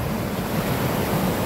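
Ocean waves wash onto an Australian beach, a continuous rushing surf with wind noise on the microphone, loud and close with no break.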